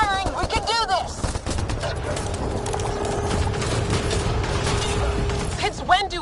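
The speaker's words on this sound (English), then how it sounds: "Just keep firing, we can do this!" Rapid sci-fi weapon fire in Mass Effect Andromeda, a dense continuous stream of shots mixed with explosions, mechanical clatter and game music, loud throughout with voices calling out over the battle.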